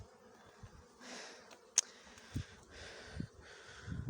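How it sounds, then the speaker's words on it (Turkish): A honeybee swarm arriving at an occupied hive makes a faint, diffuse buzzing with a few louder close passes of individual insects, heard quietly outdoors. "Vızır vızır vızır vızır gittiler kovanı buldular iyi mi?"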